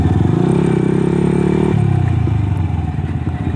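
Modified 2014 Yamaha Vixion Lightning motorcycle with a racing exhaust, loud and close, its engine droning steadily before dropping to a lower pitch as the rider eases off, with no talking.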